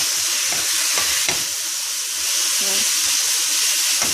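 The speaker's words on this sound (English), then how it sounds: "Just stir it in really well." Black pepper and other spices are stirred into a beef stew mix, with a spoon clicking and scraping now and then over a constant loud, close hiss.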